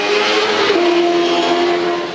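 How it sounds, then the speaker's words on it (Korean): A motorcycle roars past nearby, its loud engine note dropping in pitch as it goes by, then fading slightly over about two seconds. "그냥 바이크 지나가네."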